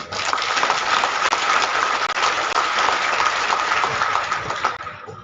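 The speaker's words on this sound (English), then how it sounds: "I will give another round of applause to the commandant." Ceremony guests at an armed forces resettlement centre applaud the commandant with steady, dense clapping that holds evenly and tapers off at the end.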